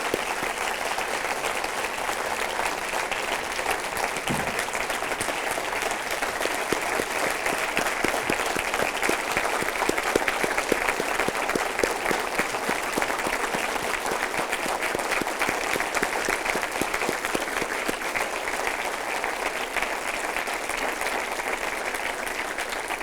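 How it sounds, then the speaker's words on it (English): Sustained applause from a graduation ceremony audience, a dense steady patter of many hands clapping for over twenty seconds with no voices over it. "So I would like to give my round of applause to you."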